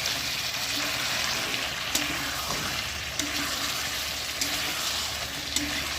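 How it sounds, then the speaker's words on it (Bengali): Meat sizzles steadily in spiced masala as it is stirred, with a continuous close frying hiss and occasional spoon scrapes against the pan roughly every second. "তো দেখতে পাচ্ছ, ভালো করে কষিয়ে নিচ্ছি"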